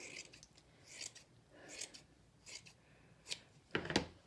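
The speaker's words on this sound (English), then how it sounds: "I'm just going to fold it in half and kind of trim it so it's all about the same size." Scissors trimming fabric while a handmade shoulder pad for a Pendleton '49er shirt is shaped, several crisp snips at a steady, unhurried rhythm, close and fairly quiet, no voices.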